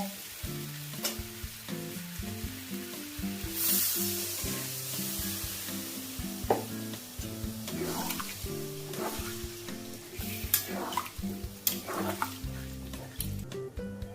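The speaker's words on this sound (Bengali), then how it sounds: "এবার আমি এর মধ্যে জল দিয়ে দেব" Water poured onto mixed vegetables frying with spices for a vegetarian dish brings a brief bright splash-hiss, then a continuous sizzle with occasional stirring scrapes, all under soft melodic background music.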